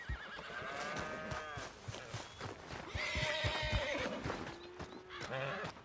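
A horse whinnies loudly in Red Dead Redemption 2, then snorts and neighs again amid clopping hooves and shuffling, close by.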